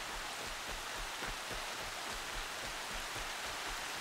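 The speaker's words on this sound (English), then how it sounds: "Look at all this rain." Steady rainfall in the Horizon Zero Dawn video game, a dense continuous hiss of drops with no break, moderately faint and alone.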